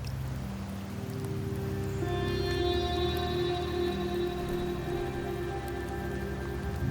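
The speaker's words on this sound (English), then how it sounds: "The rains in Septimont never seem eager to leave this season." Rain falls in Septimont in the game Wuthering Waves: a soft, steady patter of drops on surfaces with sustained tonal music layered over it and no speech.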